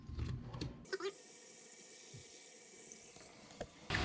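Water running steadily from a newly installed bathroom sink faucet as air clears from the supply lines, a continuous hiss with a few sputters and clunks, preceded by brief handling noises and a voice at the start.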